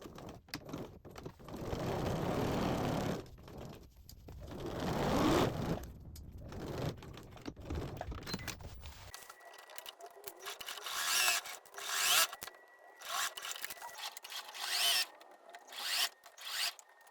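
Sewing machine stitching skirt pieces together, with soft fabric rustling and handling first, then short, buzzing stitching bursts that start and stop close by.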